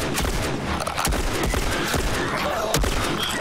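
Revolver gunfire in a video game, a dense, loud volley of overlapping shots and impacts that keeps up for the whole stretch, with almost no quiet between bursts.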